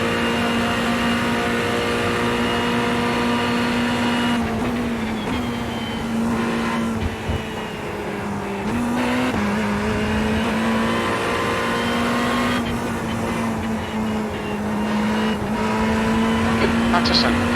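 Ferrari race cars lapping Watkins Glen in iRacing, a steady loud engine drone with shifting pitch as the cars accelerate and brake, continuous throughout with small gear-change dips.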